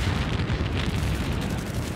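In Battlefield 3, an explosion gives a dense, continuous rumble that rolls on loudly for about two seconds without a clear single blast.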